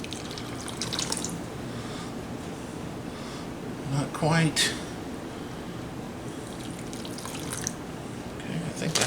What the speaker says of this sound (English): So we're just going to pour here.